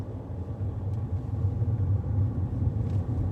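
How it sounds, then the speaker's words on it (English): An adapted car, driven by a learner driver with a disability, goes through a roundabout. A steady low engine rumble and road noise from inside the cabin fill the short stretch, with no talking. "Drive the car through the roundabout."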